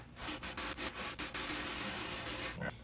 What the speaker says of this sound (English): I'm letting the weight of the sanding beam kind of apply the pressure.